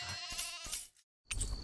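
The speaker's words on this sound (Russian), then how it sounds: "Овца." A farm sheep in the Tales of Arise game bleats in two quavering calls separated by a short silence, close and fairly quiet.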